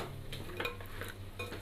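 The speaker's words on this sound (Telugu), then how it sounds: "కలుపుతున్నావా? కలుపు." Food is stirred in a pot during home cooking, with soft scraping and light clinks of a spoon against the metal over a low steady sizzle, quiet and close.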